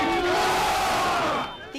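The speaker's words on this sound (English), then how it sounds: "Capitol police officers cheering on Officer Kenny Shaver as he left the hospital" A crowd of Capitol police officers cheers and shouts loudly as Officer Kenny Shaver leaves the hospital, a dense sustained roar of voices close by that fades at the end.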